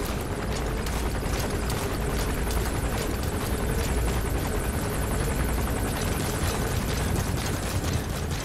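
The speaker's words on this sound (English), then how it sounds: "That's an enemy gunship." Enemy gunship helicopter in Metal Gear Solid V, rotor chopping loudly and steadily overhead with a dense, constant roar that fills the whole stretch.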